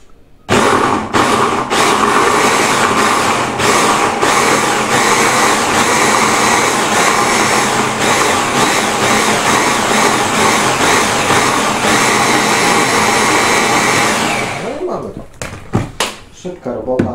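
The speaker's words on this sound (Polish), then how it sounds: "No i teraz to zamykamy, blendujemy do uzyskania jednolitej masy." A blender whirring loudly and continuously as it purees a mango and coconut ice cream mixture, running for about fourteen seconds before winding down and stopping, followed by a few small clunks.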